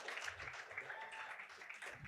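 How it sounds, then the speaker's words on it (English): An audience bursts into applause, with dense, steady clapping and crowd noise that holds for about two seconds without a break. "Give me a round of applause for that."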